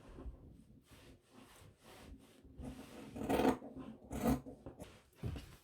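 Scissors cutting through fabric while making a puffy-sleeve top, quiet rasping snips in short strokes, with two louder bursts of cutting near the middle.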